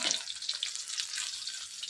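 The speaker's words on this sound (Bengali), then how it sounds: "এই দেখেন বেগুনগুলো কত সুন্দর করে ভাজা হয়ে গেছে।" Eggplant slices fry in oil in a wok with a steady, crackling, high sizzle, close and moderately quiet, with no talk.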